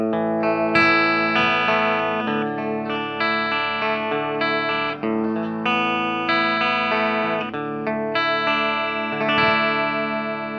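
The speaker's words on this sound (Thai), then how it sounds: "มาเริ่มจากที่ผมปรับเจ้าตู้ของโซลาโน่นี่ เป็นเสียงครีนอยู่นะนะเดี๋ยวมาลองกับเสียงครีนกันดู ใช้กีตาร์เทเลแบบ" A Telecaster in a clean tone through a Soldano SLO 30W Mini amp head rings out in steady, sustained chords and notes with a bright attack, played alone and loud without talk.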